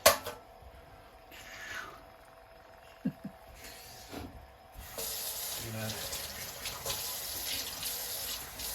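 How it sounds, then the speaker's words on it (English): Water runs into a pot from a faucet while cooking soup for a Thanksgiving dinner in the dark, a quiet steady gush that starts partway through after some faint clinks and handling noises. "add maybe a half can of water"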